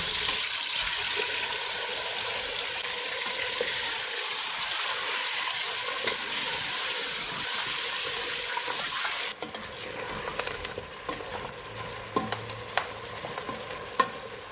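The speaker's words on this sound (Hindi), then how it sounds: "चूल्हे को मीडियम टू हाई रखेंगे और इसको 4 से 5 मिनट तक भूनेंगे" Loud, steady sizzling of beef frying in a pot over medium-high heat with scraping stirs, the hiss dropping noticeably quieter partway through.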